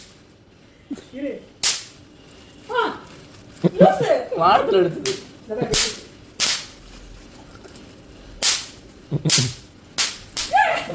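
Several sharp Diwali firecracker bangs burst out one after another, loud and close, with people talking and exclaiming between the blasts.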